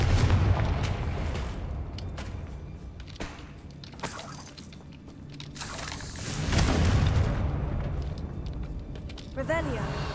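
Confringo blasting-curse explosions from the video game Hogwarts Legacy: several loud, booming bursts, the biggest near the middle and another a couple of seconds later, over game sounds with a voice talking through much of it.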